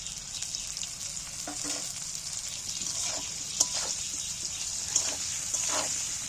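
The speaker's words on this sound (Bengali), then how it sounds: "এইবার তেলের মধ্যে অল্প একটু নেড়ে নিয়ে" Chopped garlic, ginger and green chilli fry in hot oil for echor kalia, a steady bright sizzle with occasional soft stirring scrapes and small pops, fairly close and without voices.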